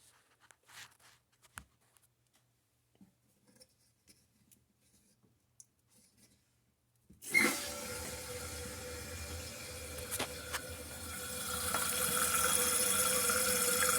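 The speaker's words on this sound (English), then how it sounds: "So I'm going to go ahead and turn the water on." After several seconds of near silence with faint clicks, water suddenly rushes in and keeps running, growing steadily louder as a toilet tank refills.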